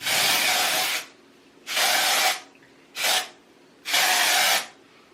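Batiste Clean and Light Bare dry shampoo sprays in four loud, close hissing bursts, three long and one short, with quiet gaps between them.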